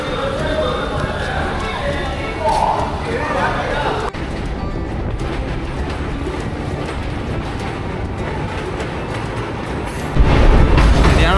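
An Indian long-distance passenger train crosses a railway bridge with a loud, continuous rattling rumble and rhythmic wheel clatter, swelling heavier near the end, while someone talks over it.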